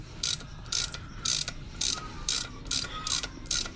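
An M10 x 1.25 tap being turned into an EVO X 4B11 engine block with a ratcheting wrench, giving rapid bursts of clicking repeated in a steady back-and-forth rhythm, close and clear.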